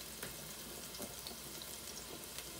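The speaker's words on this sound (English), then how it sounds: "gonna let them onions cook up a little bit" Onions cooking in olive oil for spaghetti with meat sauce give off a steady, close sizzle, a dense crackling hiss that continues without a break from start to finish, with no voices over it.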